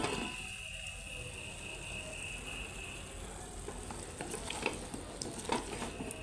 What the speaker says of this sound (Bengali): তো এই রাইস কুকারে ভালো করে একটু কষায় নিব।